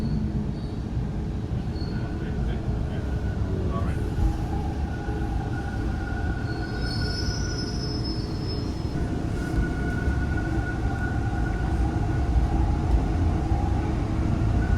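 A Toronto Bloor-Danforth Line 2 subway train rolls along at speed, a constant loud rumble of wheels and motors with occasional thin squeals from the rails, heard from inside the car.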